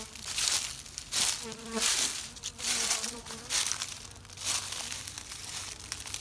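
Honey bees buzz around a hive during a warm January checkup, a dense, close insect drone with rustling and crinkling handling noise over it and no talking.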